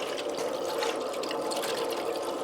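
A Rheem hybrid water heater fills up with water, giving a steady, continuous rushing hiss of flowing water through the pipes at moderate level, with no talking.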